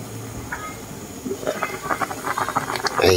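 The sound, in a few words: pot boiling on a stove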